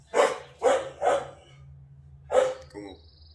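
A dog barks four times in short, sharp bursts, three in quick succession and then one more after a pause, close by over a low steady hum.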